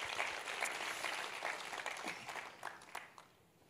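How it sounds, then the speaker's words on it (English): A church congregation at a Bible study clapping in praise, a burst of dense hand claps that thins out and fades toward the end, heard fairly close. "One more time, give God a hand clap of praise"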